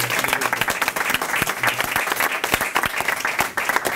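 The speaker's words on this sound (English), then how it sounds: "we're going to give you a big round of applause" Dense, steady applause from a crowd at an elementary school award event, loud and continuous throughout, with a few faint voices mixed in.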